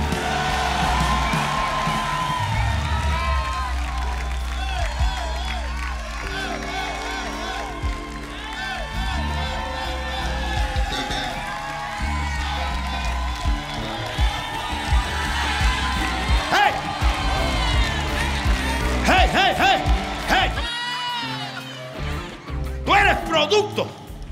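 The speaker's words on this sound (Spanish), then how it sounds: "Dale, dale, fuerte aplauso atrás." A church congregation claps and cheers through a sermon, steady crowd applause and shouts rising and falling while a preacher talks loudly over them.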